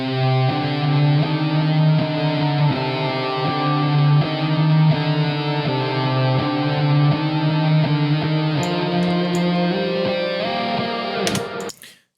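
Electric guitar lead through an amp with a fuzz pedal at lower gain, plus delay and reverb, plays sustained melodic notes loudly before fading out at the end.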